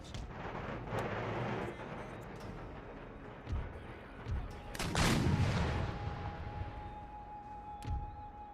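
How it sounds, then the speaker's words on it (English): Howitzer artillery booming in Empire: Total War, firing quicklime shells, with several heavy low thuds spread across the moment and a rumbling battlefield wash between them. "Howitzers, unlimber and fire quicklime."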